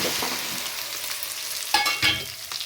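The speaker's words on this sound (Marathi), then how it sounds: "लसण असा लाल झाला की भेंड्या घालून घ्यायच्या" Okra tossed into hot oil with garlic fried until reddish, giving a steady close sizzle with stirring scrapes and a couple of sharper crackling bursts near the end; no talking.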